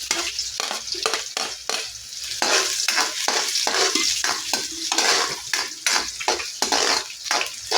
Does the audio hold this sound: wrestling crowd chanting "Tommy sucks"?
no